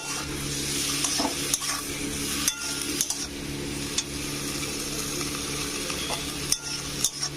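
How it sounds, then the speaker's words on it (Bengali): Vitili dumplings fry in a pan with Malabar spinach and egg, giving a continuous close sizzle broken by sharp clinks and scrapes of a spoon against the pan as they are stirred, with no voices. "এবার এখানে আমি ভিটুলিগুলো দিয়ে দেবো এটা আমি নেড়ে দেবো"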